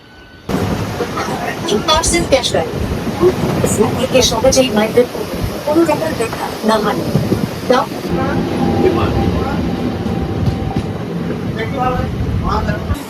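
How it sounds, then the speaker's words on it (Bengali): Passenger train pulling away from Bardhaman station toward Katwa, heard from inside as a loud continuous rumble and rattle of wheels that runs throughout, with people talking over it. "একদম সঠিক টাইমে ট্রেন ছেড়ে দিয়েছে"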